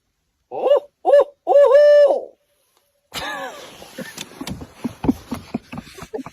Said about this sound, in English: I want you to do an owl hoot.